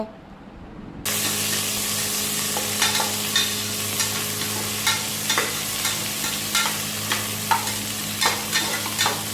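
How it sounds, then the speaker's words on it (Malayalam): Okra fries in a hot pan with a steady loud sizzle that starts abruptly after a quiet second, with repeated stirring scrapes punctuating the hiss. "അപ്പോൾ നമ്മൾ വെണ്ടയ്ക്ക ഒന്ന് വറുത്തെടുക്കണം കേട്ടോ"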